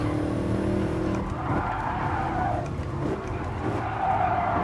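Race car in Gran Turismo Sport braking hard and skidding, tires squealing over a loud, steady engine roar that persists throughout, close and continuous.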